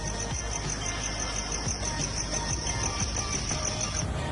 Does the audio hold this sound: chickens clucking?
no